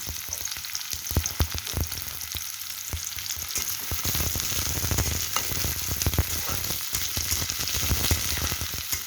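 Thick-cut onions hit hot oil, about two cups, in a pan for Bangladeshi sesame bharta, giving a steady loud sizzle and crackle with scattered pops and occasional stirring scrapes throughout, no voices.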